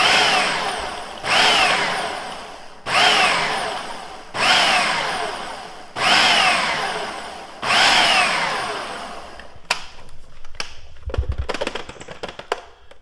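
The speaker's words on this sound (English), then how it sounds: "let's pulse it until the butter is kind of like, and the flour mixed together" A food processor pulsing butter and flour for cinnamon raisin biscuits gives six loud whirring bursts, each about a second long with short gaps between, followed by lighter clattering and knocking.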